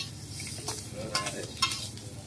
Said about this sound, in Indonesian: Tikus hidup digoreng dadakan.